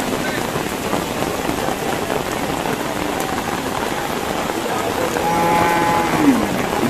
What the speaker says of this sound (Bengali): বৃষ্টির মধ্যে সবাই দাঁড়িয়ে রয়েছে গরু নিয়ে।